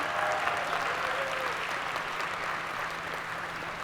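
An audience at a dual enrollment recognition ceremony applauds students, a dense, even roll of clapping from many hands that holds steady and tapers slightly without any talking.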